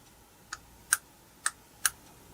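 A Lexus LS400 transmission shift solenoid is switched on during a bench test, giving four sharp, faint clicks at uneven intervals over a quiet background.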